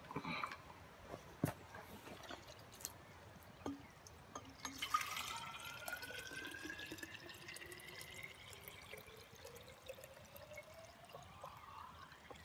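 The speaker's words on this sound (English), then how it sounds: "Let's go get some water." Water runs from a tap into a container, a steady pour whose pitch rises as it fills, heard close and fairly quiet with small clicks and drips around it.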